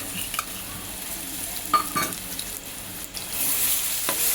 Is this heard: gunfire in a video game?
no